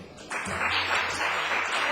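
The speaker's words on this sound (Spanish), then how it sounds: "un aplauso para todos" Members of the Aragonese parliament applaud together in the chamber. Clapping starts abruptly and holds steady and fairly loud through the short stretch.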